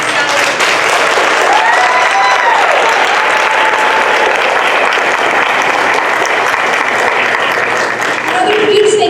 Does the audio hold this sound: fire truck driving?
no